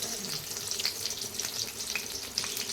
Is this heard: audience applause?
no